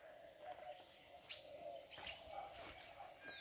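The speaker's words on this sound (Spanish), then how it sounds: "Se puede sentir lo lindo que cantan las aves a buena mañana." Morning birdsong in a neighborhood of Chirilagua: several birds chirp and coo at once over a steady hum of background noise. The calls come in short bursts, some at mid distance, with a thin whistle near the end.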